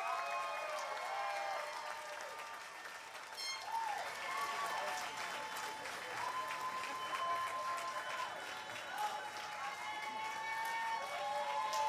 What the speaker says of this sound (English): Let's have a huge round of applause for all the MPL graduates